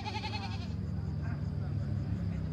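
Goat bleats at a busy goat market in Northwest Vietnam. The first bleat is loud and harmonic, and fainter bleats follow over low market rumble and nearby talk.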